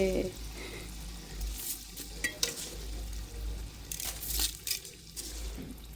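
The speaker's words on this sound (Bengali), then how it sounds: "এখন চালগুলো দিয়ে দিচ্ছি মাংসের মধ্যে" Washed rice tipped into spiced meat cooking in a pot, with a low sizzle and scattered stirring and scraping clinks nearby, quiet throughout.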